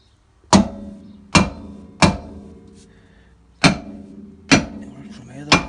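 A sledgehammer pounds a seized rear brake drum on a 2003 Honda Civic LX, giving five loud, ringing metallic strikes at uneven intervals, each with a short decaying clang.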